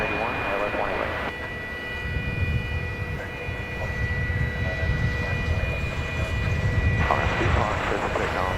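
American Airlines flight 2181 on an ILS approach at Dallas/Fort Worth airport, a steady low jet roar building through the clip, with radio chatter and talk over it.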